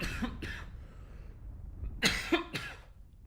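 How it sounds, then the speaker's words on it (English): Several sharp coughs: two near the start, then a louder cluster of three toward the end, close to the microphone with no talk. "Every time, it's the purples that really make me cough."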